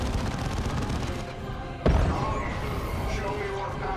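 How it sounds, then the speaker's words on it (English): Eldar gunfire in the Dawn of War II strategy game, a dense battle din of rapid shots with one heavy thump midway, continuous and loud under game audio. "The Eldar have opened fire."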